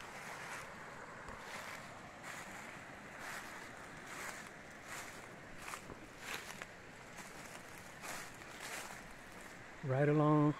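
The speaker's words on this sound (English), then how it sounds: "The creek is right next to us." Seneca Creek in the Monongahela National Forest flows beside a campsite with a steady, close rushing wash, joined near the end by a brief louder burst of what sounds like a voice.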